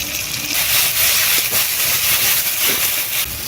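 A little water goes into a hot pan of frying chili powder, turmeric and cumin paste, producing a loud, steady steam hiss with small bursts of crackle.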